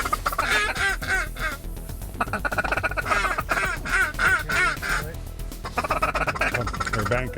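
Ducks quack loudly and repeatedly during a duck hunt in Montevideo, several birds calling in overlapping bursts near the blind while hunters talk over them.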